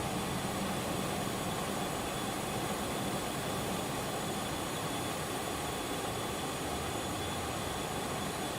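Steady, continuous jet engine roar of a HotStart Challenger 650 business jet cruising over Colorado in the X-Plane 12 flight simulator, a broad even wash of sound with no talking.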